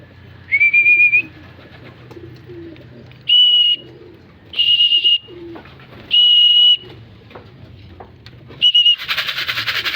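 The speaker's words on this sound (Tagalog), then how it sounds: "Baba na yung mga kalapati natin." Pigeons coming down to land make a run of shrill whistling bursts, four or five short tones spaced a second or two apart, ending in a broad rushing flutter, fairly close and loud.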